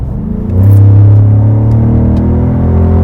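A Ford Raptor pickup truck engine revs up and holds a steady, rumbling drone, loud and close, with no voices.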